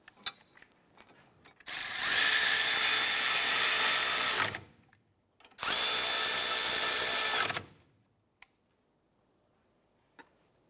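A power tool drives a brake caliper bracket bolt tight on a 2005-2007 Ford 500, two loud sustained whirring bursts of about three and two seconds with quiet pauses and small clicks.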